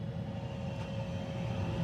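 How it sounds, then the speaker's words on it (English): A workshop dust collection system runs steadily through a woodworking session, a loud, even broadband roar with a constant whine layered on top, holding level with no breaks. "Dust collection."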